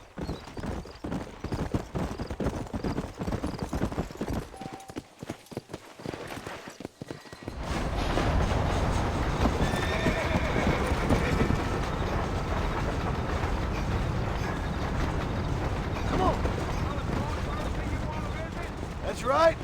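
Horses ridden out of New Orleans in the video game Red Dead Redemption, steady clip-clopping hooves joined by rattling wagon or train-like rumble, a dense, continuous mix with spoken dialogue over it.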